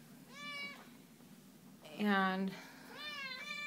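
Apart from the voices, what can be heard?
cats meowing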